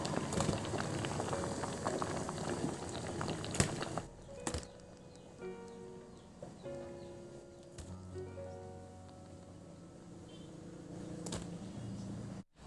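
A pot of bananas at a rolling boil in a simple provincial kitchen gives off a steady bubbling and crackle. Soft clicks and faint background sounds mix in, and the whole sound is fairly quiet.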